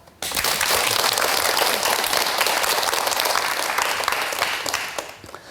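A studio audience bursts into applause welcoming a lecturer, loud sustained clapping from many hands that holds steady and then begins to fade near the end.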